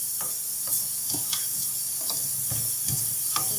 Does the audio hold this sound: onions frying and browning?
yes